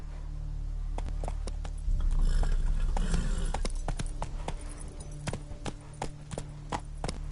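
Horse galloping in the video game The Witcher 3, steady rapid hoofbeats clopping close and clear over a low rumbling game ambience.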